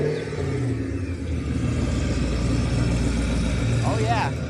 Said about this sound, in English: Even though this is an electric car, it actually makes engine noises.